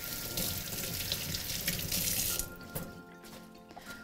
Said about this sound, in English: So we need to give this a little rinse.